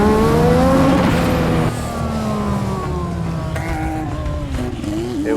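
Honda Formula 1 race car accelerating hard on a track straight, a loud, close engine whine with rising and falling gear-change sweeps that continue steadily throughout.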